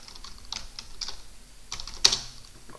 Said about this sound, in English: you can just type in here workshop